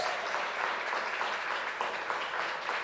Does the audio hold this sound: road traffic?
no